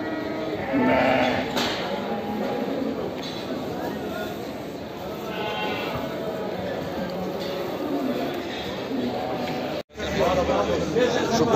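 Lambs bleat repeatedly amid the bustle of a busy livestock market in Aksaray, their calls mixed with a steady murmur of crowd chatter and nearby voices.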